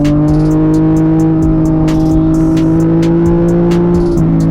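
A Yamaha MT-09 motorcycle accelerates hard as the rider rolls on the throttle, its engine note loud, close and sustained, climbing and holding steady with a slight shift near the end.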